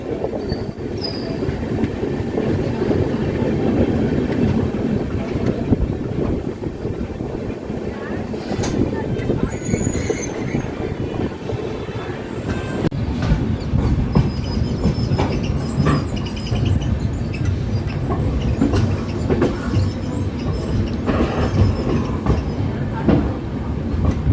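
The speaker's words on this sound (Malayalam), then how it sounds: "ഇപ്പോൾ ഇവിടുന്ന് ട്രെയിൻ എടുത്തു." The Vasco da Gama–Velankanni Express rumbles along steadily near Tiruchirappalli, with loud continuous wheel and carriage noise, rhythmic clatter and occasional squeals heard from inside the coach.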